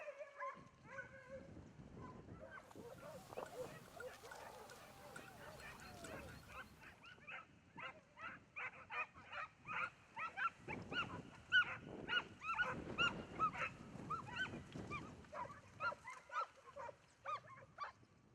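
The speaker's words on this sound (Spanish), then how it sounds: "Los perros han dado con la pareja y comienzan las ladras y los intentos de agarrar a los ungulados." Hunting dogs bark repeatedly at a pair of wild boars during a hunt in the Portuguese Alentejo, a run of close, overlapping barks that builds and intensifies through the second half amid outdoor rustling.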